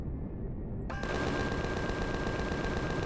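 Rapid automatic gunfire in the video game Empyrion shoots down a drone, starting abruptly after a quiet moment and then rattling on as a steady, loud burst with a faint electronic tone behind it.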